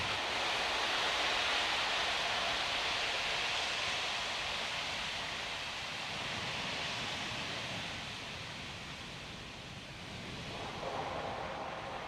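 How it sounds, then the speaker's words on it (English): Falcon 9 strongback TE line venting gas during launch closeout, a steady broadband hiss and rush that holds at a constant level for the full stretch with no voices. "vent the TE line on the strongback, which is part of our gas closeout process"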